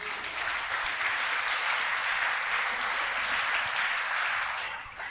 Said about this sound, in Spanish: Dale otro aplauso al Señor, amén.